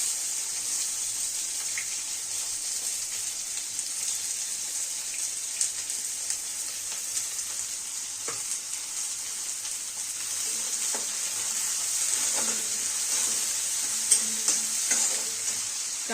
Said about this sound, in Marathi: आणि आता यात कांदा भाजून घेऊया